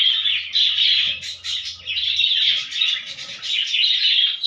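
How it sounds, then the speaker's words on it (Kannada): Pet lovebirds chirp and squawk close by in a rapid run of shrill, high calls that sound almost without pause, with a faint low hum underneath. "ನಮ್ಮ ಬರ್ಡ್ಸ್ಗಳು ಹೆಂಗೆ ಆಡ್ತಿದ್ದಾವೆ"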